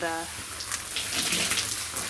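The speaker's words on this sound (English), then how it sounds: "that's just water that's kind of reactivating the soap" Water sprays against a house's exterior wall, a broad steady hiss with splashing bursts. It rinses soap already applied, and a brief tonal voice-like sound opens the clip.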